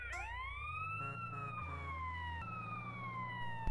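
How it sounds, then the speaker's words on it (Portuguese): An ambulance siren wails in GTA San Andreas during a paramedic mission, its pitch rising and falling steadily over a low engine rumble, loud and continuous with no talk. "Você pode estar ligando também a sirene da ambulância para facilitar o seu caminho aí"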